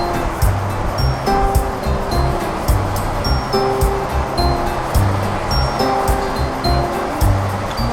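Ocean waves at a beach on Oahu, Hawaii, a steady loud wash of surf with a low rumbling undertone, heard alongside faint tonal sounds and traffic-like hum.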